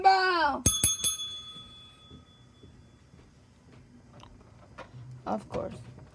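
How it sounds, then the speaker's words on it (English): A bright metallic bell rings a few quick strikes at the start, each hit leaving a shimmering decay, followed by quieter room noise, scattered clatter and brief voices. "Ring the bell."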